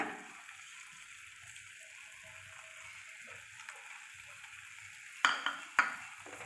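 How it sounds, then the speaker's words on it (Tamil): Tamarind water for an okra curry bubbling and sizzling quietly in a pan, a soft steady hiss close by, with two brief sharp clinks of a utensil near the end. "புளி தண்ணி ஊற்றுனதுக்கப்புறமா நல்லா இப்போ கொதிக்குது"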